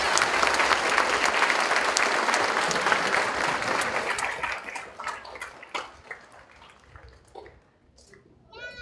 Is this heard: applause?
yes